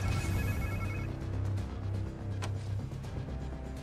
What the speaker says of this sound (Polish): To chyba czyjaś komórka.